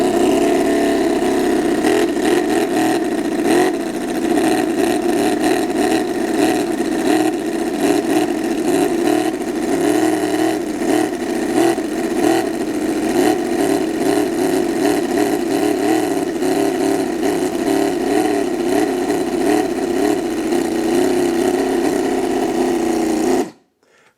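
A small carbureted engine, started with a hooked-up starter, runs for about twenty-four seconds with a loud, steady, buzzing chug and slight wavering before cutting off abruptly.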